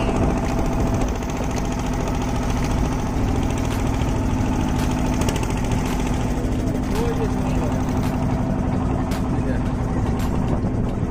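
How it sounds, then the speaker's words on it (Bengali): Motorbikes crossing near the Jadukata river in Sunamganj give off a steady, close engine drone that runs the whole time beneath a continuous wash of background noise. "মানুষের পাশাপাশি পার হচ্ছে অনেকগুলো বাইক"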